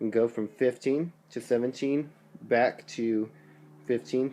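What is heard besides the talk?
None of the usual background noises is heard.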